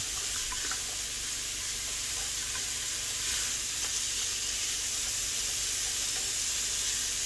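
Celery, onions and carrots sizzle steadily in a pot for Southern black-eyed peas, a constant close frying hiss with no talking.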